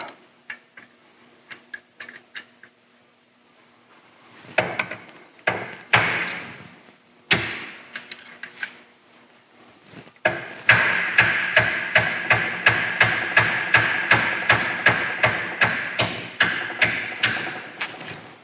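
A roll pin being driven out of a transfer case shift shaft with a 3-pound hammer: a few scattered taps at first, then a long run of rapid, evenly spaced sharp metallic blows, close and loud, with no talking.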